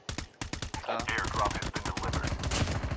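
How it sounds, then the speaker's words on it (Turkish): Rapid automatic gunfire from a firefight in Call of Duty Mobile, loud sharp bursts in quick rhythm with brief pauses, with faint voices behind. "Arkamızda çatışma var."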